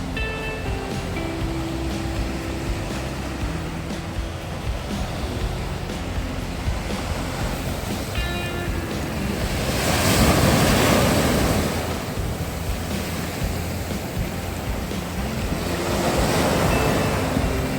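Sea waves at Odesa wash and break close by, swelling louder in slow surges over a constant roar of surf and light wind.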